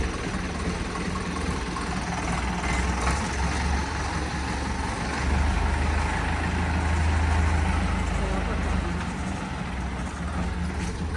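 A small spray pump engine runs steadily nearby with a continuous rough drone and slight swells in loudness, no voices.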